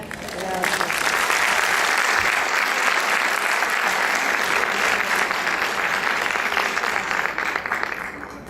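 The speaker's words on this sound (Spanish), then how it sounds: "Último aplauso para todos." Sustained audience applause at a Easter pastoral conference closing, a steady, loud wash of clapping from a full hall lasting several seconds before tapering slightly at the end.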